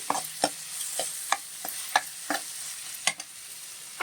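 Crabs frying with ginger garlic paste in a pan being stirred, with repeated scraping clacks of the spoon at an uneven rhythm over a continuous hissing sizzle, close and clear.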